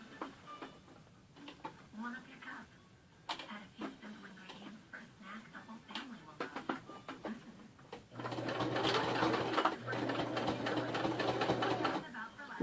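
Sewing machine top stitching through the thick layers of a handmade purse, starting on a green section; a steady loud mechanical whir runs through the second half, after earlier quieter handling clicks and soft talk.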